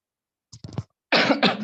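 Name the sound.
cough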